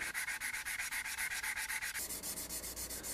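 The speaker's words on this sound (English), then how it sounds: "After I got it as close as I comfortably could on the grinder, I'm sanding it out." A yanagiba knife blade being hand-sanded after grinding, with steady rhythmic back-and-forth rasping strokes about six per second, close and even, and a slight drop in pitch partway through.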